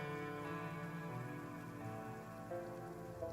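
Steady rain falls on surfaces with even, continuous patter, soft and constant throughout with no talking.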